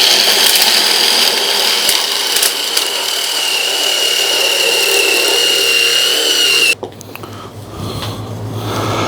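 A new dowel maker tool bought from Temu cuts a square piece of wood, about 12 millimeters, into a round dowel: a loud, continuous whirring and grinding that runs steadily for several seconds, then cuts off abruptly into quieter clatter.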